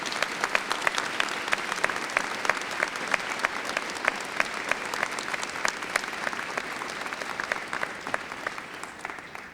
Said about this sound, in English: May I ask the graduates of the class of 2010 to join in a round of applause for your families